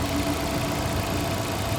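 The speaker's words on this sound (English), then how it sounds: "relatively quiet, doesn't make a lot of engine noises" The 1.6-liter engine of a 2016 Nissan Versa Note SR runs quietly at idle, a low, even hum with faint vibration and no other sound.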